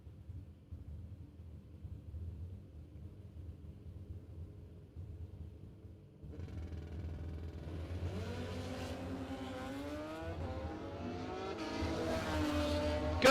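Drag race between a Ford Maverick car and a motorcycle, opening with a low idling rumble, then engines roaring up from about six seconds with rising, revving tones building steadily louder toward the end.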